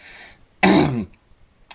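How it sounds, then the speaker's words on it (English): A single harsh, loud cough or throat clear from a man, one short burst alone in an otherwise quiet room, followed by a faint small click. "I had a little bit of cough right there"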